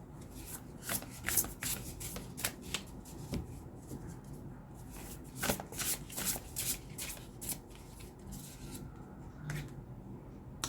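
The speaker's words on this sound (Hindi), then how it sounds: "I'll just take out few more cards" Tarot cards are shuffled and drawn close by, with rapid soft riffling and rubbing in irregular bursts, quiet and continuous throughout.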